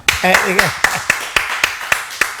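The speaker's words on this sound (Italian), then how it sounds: "possiamo fare un applauso al maestro Enzo Di Domenico" Rhythmic hand claps in a home setting, sharp and evenly spaced roughly every quarter second, starting right after a brief spoken phrase and continuing alone.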